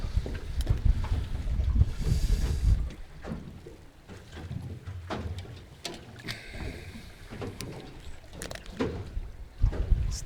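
Wind gusting across a sheltered bay near a mussel farm, heard from a small fishing boat, rumbling low buffets against the microphone with scattered knocks and water slaps, rising and falling irregularly, with no talk.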